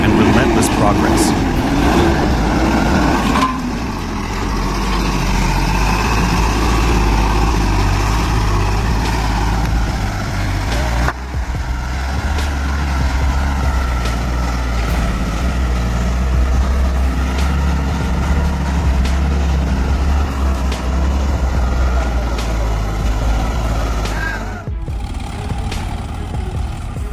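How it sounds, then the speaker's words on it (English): Heavy trucks rumble steadily on a construction site, a continuous deep engine drone that stays loud and unbroken for the full stretch, ending in a brief dip near the close. "colossal trucks, the titans of the construction site, rumble into action"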